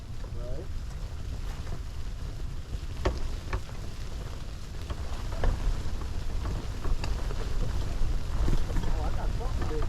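Wind roars and buffets steadily against an ice fishing tent during a blizzard, with occasional flapping and knocks, and someone speaks faintly under it.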